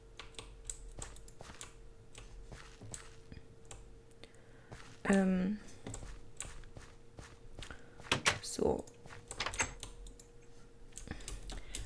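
Scattered clicks and keystrokes on a Roccat Rise TKL Pro keyboard, spaced irregularly over several seconds, with a few louder knocks and a brief spoken word.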